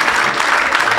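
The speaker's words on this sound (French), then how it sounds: "Acclamez Jésus-Christ." Applause from a church congregation during a healing service, a dense, steady wash of clapping filling the whole brief moment with no break.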